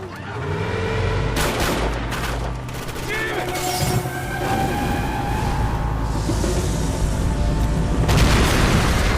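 An explosion goes off in the video game Max Payne 3 amid gunfire, with booming blasts and sharp shots layered over game music and brief shouted voices, loud throughout.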